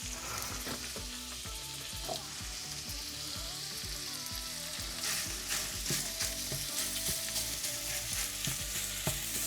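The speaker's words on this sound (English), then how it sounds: "I'll go ahead and throw in the meat here. Get that cooked up a little bit." Meat sizzles steadily in a hot pan for Texas chili, a dense continuous frying hiss with occasional stirring scrapes and clinks, close and fairly loud with no talk.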